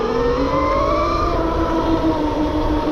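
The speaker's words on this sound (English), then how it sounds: "That's what the horn sounds like." Horn of a 72V RAWRR Mantis X electric bike sounding one long, steady, loud wailing tone that stays constant for about three seconds, with no talking over it.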